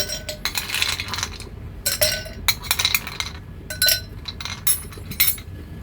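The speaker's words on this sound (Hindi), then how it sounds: "लास्ट में मैं आइस डालूँगी।" Ice cubes dropping into a glass for plum lemonade, a series of bright close clinks and rattles in irregular bursts, with short quiet gaps between drops.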